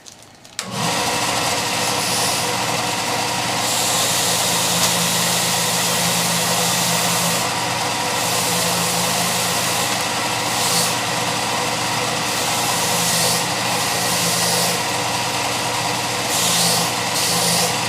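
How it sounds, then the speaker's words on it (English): A loud, steady power-tool drone runs without a break, a harsh grinding whine over a low motor hum, close by and unchanging. "So I'm going to use the belt sander. It'll be a little noisy"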